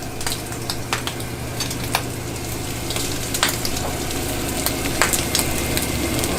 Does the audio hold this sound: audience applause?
no